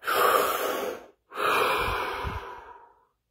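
A deep breath taken close to the microphone: one long inhalation, a brief pause, then a long, slow exhalation fading out, with no talking.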